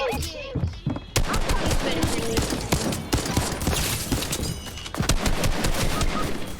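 Rapid SMG gunfire rattles through a video game firefight, dense bursts of automatic shots packed close together and loud, continuing almost without pause after a brief quieter opening.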